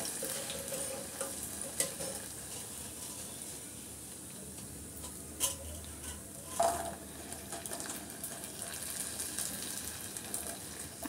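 Crispy dough snacks made from packet flour fry in hot oil with a continuous sizzle, broken by occasional clinks of utensils and stirring, and no speech.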